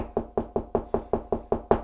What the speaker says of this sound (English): So my knocking is confirming that I have a stud right here.